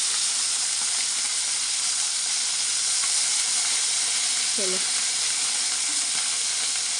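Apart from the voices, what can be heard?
fish frying in oil with turmeric and salt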